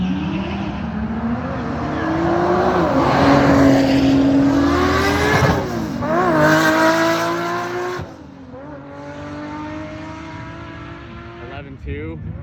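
Two Nissan GT-R cars launching on race day, loud engines climbing in pitch through rapid gear changes, then fading away into the distance and leaving quieter background noise.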